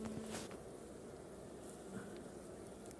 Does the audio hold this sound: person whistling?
no